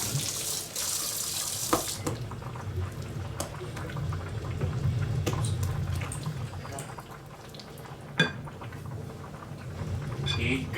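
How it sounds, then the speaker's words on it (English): Tap water runs steadily into a kitchen sink while a spoon is washed, a continuous close splashing flow with a couple of sharp clinks of metal against the basin. "wash that spoon."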